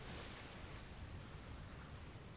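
Ocean waves in the sailing survival game Atlas, a steady broad rushing wash of surf heard alone at low volume with no distinct breaks.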